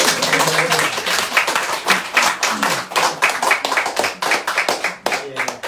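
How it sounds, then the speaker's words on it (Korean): An audience at a political press conference in Palisades Park claps in uneven bursts of sharp, close hand claps, with voices talking over the clapping. "박수 한번 쳐주세요."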